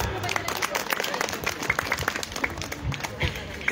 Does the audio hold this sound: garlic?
no